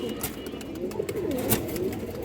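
A Musaldam pigeon gives a rolling, repeated coo at close range over a busy background with occasional clicks and knocks.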